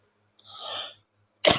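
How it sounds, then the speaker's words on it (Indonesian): A single cough bursts out close and sharp after a soft breathy exhale, with a low steady hum running underneath and brief quiet between the two sounds. "Maaf agak batuk nih tapi tidak apa-apa."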